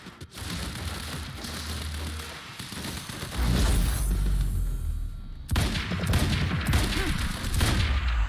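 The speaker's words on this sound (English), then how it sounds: "Stop having a constant barrage of bullets, please." Dense, continuous barrage of video game gunfire in Quantum Break, a rattling wash of shots filling the whole stretch without a break, growing heavier and closer midway, with no talking over it.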